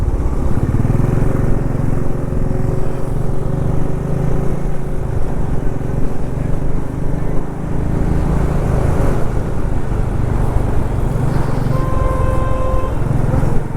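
Steady roar of road traffic, with motorbikes and cars streaming past close by on the ride from Shirdi toward home, and a few horn-like tones breaking through near the end; no one talks.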